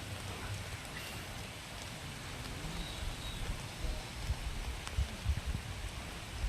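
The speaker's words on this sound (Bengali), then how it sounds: "বৃষ্টি শুরু হয়ে গেছে" Steady morning rain falling outdoors, a soft continuous patter with a few heavier drops near the end, fairly quiet and without voices.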